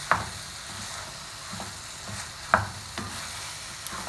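Macaroni being stirred together with vegetables and chicken in a pan, a soft scraping and sizzle with a few sharp utensil clicks against the metal, fairly quiet and close, with no voices.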